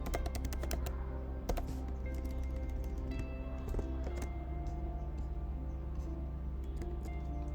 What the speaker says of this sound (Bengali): এন্টার প্রেস করলাম।